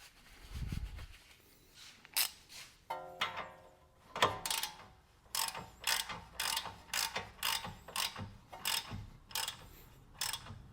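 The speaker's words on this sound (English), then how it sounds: "Tighten everything up, tighten the jam nut here" Ratchet wrench tightening the jam nut on a tie rod end of an 8th-generation Honda Civic, heard as repeated short bursts of metallic clicking with brief pauses between strokes, close and fairly loud.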